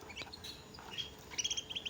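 Faint, high chirps and short trilling notes from a singing canary, quick and repeated over a soft background hiss.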